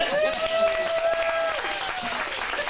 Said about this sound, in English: give one more round of applause for Nico